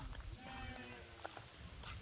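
A flock of sheep and goats on a farm bleats several times as they are herded off to drink water, the calls fairly near over a soft background rustle.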